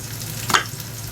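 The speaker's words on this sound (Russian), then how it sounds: "И обжариваем мясо с двух сторон до румяной корочки." Pork meat browning in a frying pan gives a continuous soft sizzle and crackle with one brief louder spatter.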